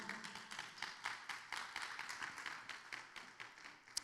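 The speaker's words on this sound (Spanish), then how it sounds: "Dele palmas al Señor." A church congregation claps in praise during a Spanish-language service, a dense, fairly faint patter of hands keeping a loose steady rhythm with a sharper clap near the end.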